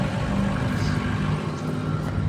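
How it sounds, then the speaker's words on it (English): A 2005 Ford F250 Power Stroke diesel truck idling through a straight 4-inch exhaust with a muffler, a steady low rumble that is close, even and fairly loud, with no talk over it. "But very good sounding truck. It's not overly loud."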